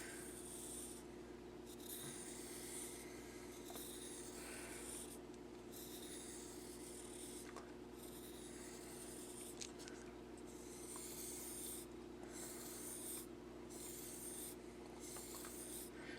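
A knife blade drawn repeatedly across a white sharpening surface during sharpening, a quiet raspy rubbing that comes in steady strokes, faint and close, with no talk.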